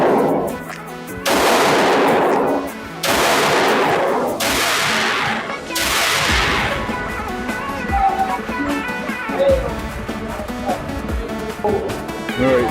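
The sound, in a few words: gunshots from Springfield Hellcat Pro pistol, 124 grain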